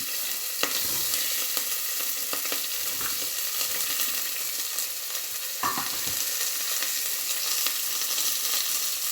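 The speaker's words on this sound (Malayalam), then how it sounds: "അതിലേക്ക് നമുക്ക് ഇഞ്ചി, വെളുത്തുള്ളി, പച്ചമുളക് എല്ലാം കൂടെ ഒന്ന് വഴറ്റിയെടുക്കാം" Ginger, garlic and green chillies sautéing in coconut oil in a pan, a loud, continuous sizzle with occasional scrapes and stirring knocks, no voices.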